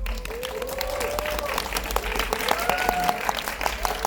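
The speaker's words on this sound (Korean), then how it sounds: "뜨거운 박수로 환영해 주시기 바랍니다" A film audience at a Korean movie screening Q&A applauds to welcome the cast, a dense continuous wash of clapping from a crowd, with faint voices and a brief whistle-like tone mixed in.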